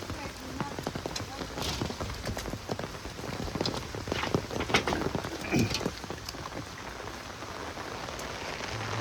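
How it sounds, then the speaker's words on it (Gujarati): Steady rain falls in a Gujarati village, a dense close patter of drops on surfaces that continues without pause, with faint voices in the background. "વરસાદ શરૂ થઈ ગયો છે."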